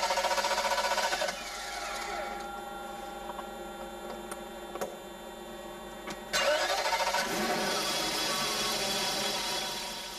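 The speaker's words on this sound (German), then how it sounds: "Sie hören es, der Motor läuft nicht." A 1992 BMW M60 V8 with its inductive sensor cable unplugged cranks repeatedly without firing. The starter whirrs steadily, eases off for a few seconds, then cranks hard again, loud and close with no talking.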